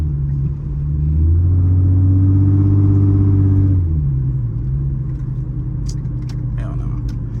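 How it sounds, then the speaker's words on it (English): Loud Infiniti G35 engine rumbling while driving, a deep droning note that swells and rises in pitch for a few seconds, then settles back to a steadier idle-like hum with some faint cabin noises near the end. "This car is so loud."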